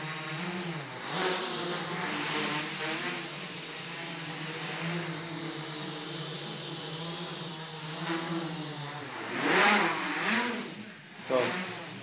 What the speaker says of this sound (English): I'm not even going full throttle. I'm afraid it's going to go